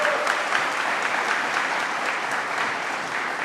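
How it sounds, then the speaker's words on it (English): A crowd at a state mental health announcement applauds, steady dense clapping throughout with no break. "Let's give a round of applause to Dr."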